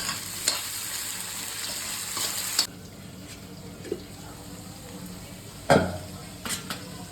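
Potatoes being stirred in a pan for sabudana khichdi, a soft steady sizzle of frying under scraping spoon strokes, with a few sharper clinks of utensil against the pan.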